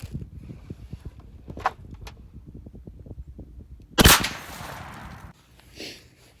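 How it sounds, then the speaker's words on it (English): A 28 gauge shotgun fires one sharp, loud shot of Hevi Steel 5/8 ounce number 4 steel shot through a modified choke at an outdoor patterning range, followed by a short decaying tail after quieter background noise. "Heavy shot, Hevi Steel. This is 5/8 ounce of number 4 shot. Modified choke, 40 yards."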